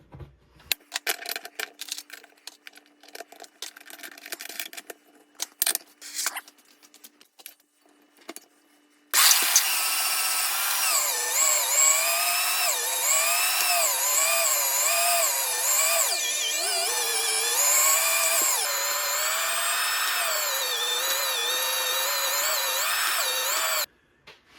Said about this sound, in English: Okay, so we got it all ground up.